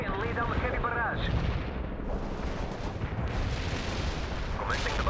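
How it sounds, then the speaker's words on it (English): A heavy artillery barrage in the World in Conflict video game: a dense, continuous rumble of booms and blasts running the whole time, loud and close, with voices heard over it. "We can deploy and lay down the heavy barrage."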